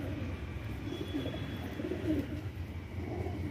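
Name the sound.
pigeon cooing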